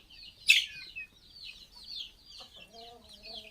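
Native hens cluck softly on a poultry farm, with a sharp squawk near the start followed by scattered chirpy clucks and a low drawn-out call toward the end, fairly faint and close.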